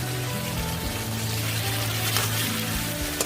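Potatoes go into a pan of ridge gourd and frying masala for a fish curry, bringing a loud, dense, continuous sizzle that fills the clip, close by and without talk.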